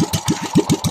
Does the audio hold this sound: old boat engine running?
yes